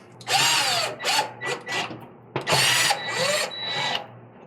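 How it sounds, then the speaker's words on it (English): Power drill driving two screws back into a Maytag stove during an igniter repair, a series of loud whirring bursts of varying pitch with short pauses between them, close up and with no talking. "And put your 2 screws back in."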